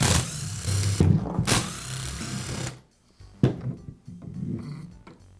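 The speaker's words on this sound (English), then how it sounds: "Now I'll remove the screws that secure the gear case to the motor housing." Screws being driven out of a DeWALT drill's gear case where it meets the motor housing: a powered screwdriver whirs in short bursts, then stops and leaves quieter clicks and handling noise.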